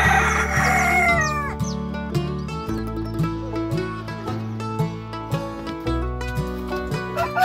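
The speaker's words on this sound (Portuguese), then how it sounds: "estamos com nossos frangos" Chickens and a rooster on a small farm, with busy overlapping clucks and a crow near the start over a bed of music, the birds loud and close.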